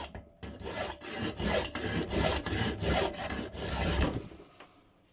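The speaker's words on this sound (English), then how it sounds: "And then just to be on the safe side, a little bit more filing" Hand file rasping the 35-degree bevel of a homemade mortise chisel forged from scrap iron, steady rhythmic back-and-forth strokes, close and fairly loud, about nine passes before stopping.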